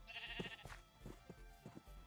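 Sheep bleating in Minecraft 1.20, a few short nasal bleats in a small pen, moderately close over a quiet game background with no talk.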